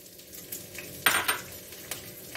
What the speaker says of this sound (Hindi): अब हम इसमें डालेंगे हरी मिर्च